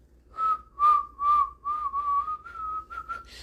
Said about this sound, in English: he's kind of whistling